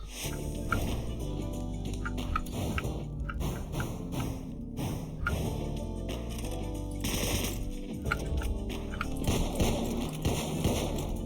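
Rapid gunfire in the video game Conquest, bursts of sharp repeated shots over a dense electronic soundtrack, spread through the clip at moderate loudness.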